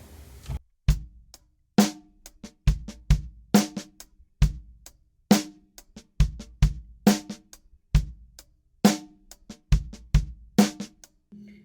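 A solo drum groove from a song repeats steadily, sharp kicks and snare hits interleaved with softer ghost-note taps in a tight, syncopated rhythm.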